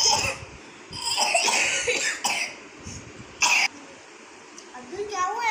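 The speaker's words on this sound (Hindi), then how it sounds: "खांसी खांसी हो रही है" A sick young boy coughs in short bursts indoors, with a few harsh coughs standing out among ongoing background chatter and movement.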